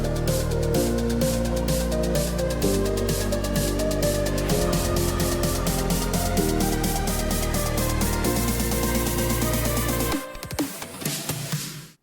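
Dense progressive house music builds with rapid layered drum fills and rising synth layers before the drop, then cuts to a brief noisy sweep before fading out.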